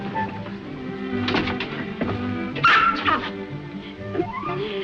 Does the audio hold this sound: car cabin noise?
no